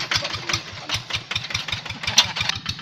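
Quick Boxer 1000 hand tractor with a Kubota R2 engine running steadily close by, its regular thumping exhaust pulses repeating several times a second over a rough mechanical clatter, with no voices.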